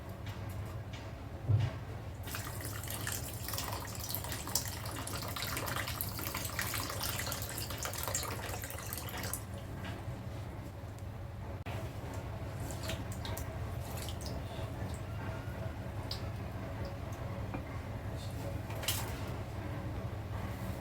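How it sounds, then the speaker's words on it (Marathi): Water sloshes and trickles steadily, with soft splashing and occasional drips, as if grains are being rinsed by hand, fairly quiet throughout with no talking. "दोन दोन वाट्या तांदूळ घेतले आता हे आपण चांगलं धुवून घेऊया"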